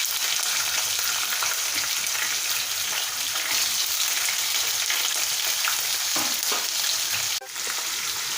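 Green chillies and onions fry with a dense, constant sizzle close by, and brief scrapes of stirring break through near the end.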